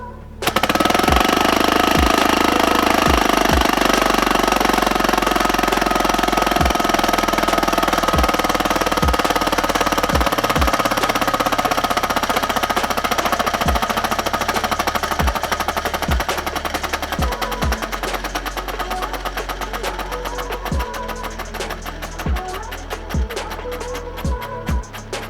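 A four-stroke compressed-air engine runs at 60 PSI with a rapid, steady mechanical clatter and loud repeated sharp knocks, a continuous close machine rhythm that slowly eases in level toward the end.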